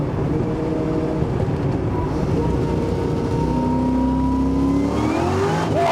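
A 6.0 LSA-swapped F-Body car accelerates hard with its wheels spinning, a loud, steady engine roar rising in pitch through the gears up close, with no talk over it.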